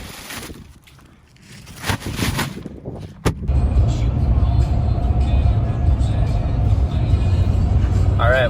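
A pickup truck drives down the road with a loud, steady rumble of engine and road noise from inside the cab, after a brief opening of quieter sounds and a sharp thump.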